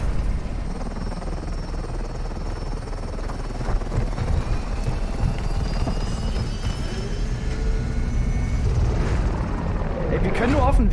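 Helicopter rotor and engine drone from the Warzone 2.0 video game, a steady loud whir running throughout with rising intensity near the end, under game sounds and a voice talking.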